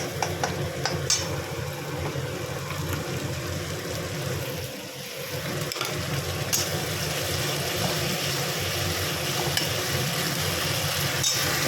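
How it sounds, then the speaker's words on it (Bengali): Onion frying with ginger garlic paste in a pan makes a steady close sizzle with occasional scrapes of stirring, continuous for the whole stretch with no talk. "এটা একটু ভালো করে ভাজা ভাজা করে নেব"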